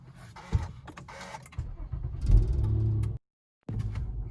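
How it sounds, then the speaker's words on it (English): Engine of a 9th-generation Honda Accord coupe cranking and catching inside the cabin after a tune flash, with a sharp start burst, a building rumbling idle, a brief dropout, then the steady idle returning, heard close and alone. "That's the startup in cabin, guys, with the PCDs."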